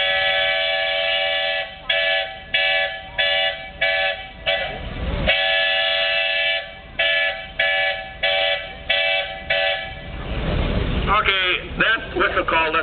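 A steam whistle at the Rollag WMSTR show blows a runaway-team call: a loud series of short, rapid blasts followed by longer sustained ones, with crowd noise and chatter beneath.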